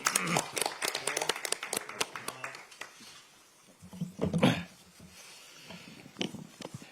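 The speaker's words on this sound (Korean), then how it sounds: "김경수 후보에게 아낌없는 박수를 보내드리겠습니다" Clapping for a gubernatorial candidate at a party nomination announcement, scattered, uneven hand claps from a modest group, with a brief louder rustling swell midway, then fading.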